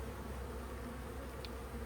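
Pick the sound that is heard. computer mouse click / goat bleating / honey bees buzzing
honey bees buzzing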